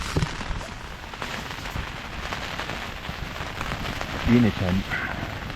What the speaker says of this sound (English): the wind and the rain has been pretty much relentless all night